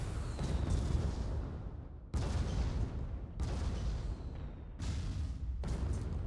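Artemis fire and explosions in a competitive Sky League match of a video game, four heavy blasts in a row, each rumbling and decaying before the next hits, loud and close.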